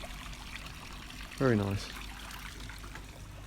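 Water runs steadily into a garden koi pond, a continuous trickle and splash close by, with a person briefly speaking over it.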